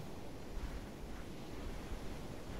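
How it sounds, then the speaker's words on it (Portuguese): Wind blows across the Tanoa island map in Arma 3, a low, steady rushing hiss with slight gusts, fairly quiet and unbroken, with no voices. "o som do vento tá fantástico"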